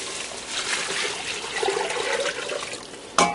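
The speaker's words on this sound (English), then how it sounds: "Now I'm going to add in 6 cups of water." Six cups of water poured steadily into a pressure cooker pot, a continuous splashing rush that deepens slightly as it fills, ending with a brief clank.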